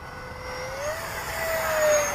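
An eFlite F-15 RC jet makes a high-speed pass, a steady whining engine tone that rises in pitch and swells louder as it nears, over a broad rushing hiss.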